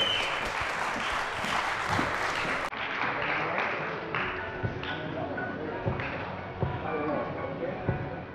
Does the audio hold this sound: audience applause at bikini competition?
yes